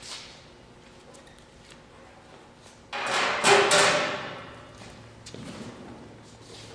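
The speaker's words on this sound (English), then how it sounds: "I'll just remove this guard." A guard panel comes off a FlexWeigh static checkweigher with a sudden loud metallic clatter and scrape lasting about a second, then a softer knock, against a quiet hum.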